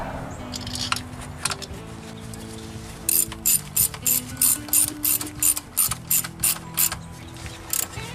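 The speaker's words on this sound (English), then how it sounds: "I'm just using a small 1/4 inch ratchet to get the torque." A small 1/4 inch ratchet tightens coil pack bolts on a 2000 Toyota Tundra, giving a close series of rapid clicking bursts in a regular back-and-forth rhythm with a low hum underneath.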